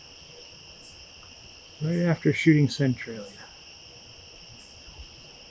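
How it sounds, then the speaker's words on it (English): Crickets at a state park by a lake chirp in a steady, high, continuous trill, and someone briefly talks over them partway through. "Now we'll just get a little room tone of the crickets"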